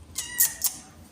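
A cat meows outside a door, a short high-pitched call followed by a quicker second meow, fairly close and clear over a quiet background.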